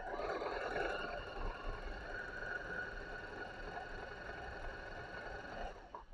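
A Singer domestic sewing machine stitches with its bobbin tension under adjustment for loose stitches, producing a faint but continuous mechanical whir and rapid ticking throughout, with no one speaking.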